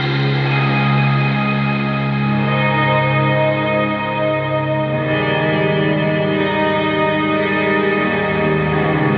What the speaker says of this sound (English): hall sounding reverb. Lots of decay